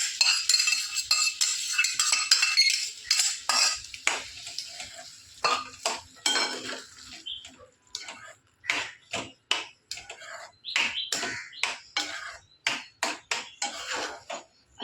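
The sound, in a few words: stirring mixed vegetables in a pan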